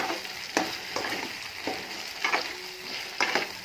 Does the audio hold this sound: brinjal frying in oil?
yes